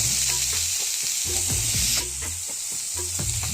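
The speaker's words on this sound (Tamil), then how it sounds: "கடுகு, உளுத்தம் பருப்பு, வெங்காயம், பச்சை மிளகாய், கருவேப்பிலை எல்லாத்தையும் ஒன்றாவே போட்டு வதக்கணும்." Mustard seeds, urad dal, onion, green chili and curry leaves sautéing together in hot oil for a raw-banana bonda filling: a close, steady sizzle broken by repeated scraping stirs of the spoon against the pan.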